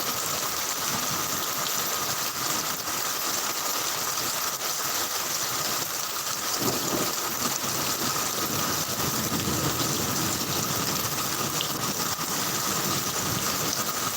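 Heavy rain falls as a steady broadband hiss and patter, continuous and fairly loud throughout, with no talk over it.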